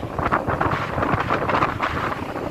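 Strong wind at the seaside buffeting the microphone, a loud rough rumbling roar with gusty surges throughout, heard alone.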